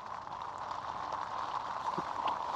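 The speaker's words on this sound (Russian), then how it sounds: "Дождь, короче, льет." Rain pours on a tent during a night at a fishing spot, a dense, steady patter heard from inside, continuous and moderately loud with no talk.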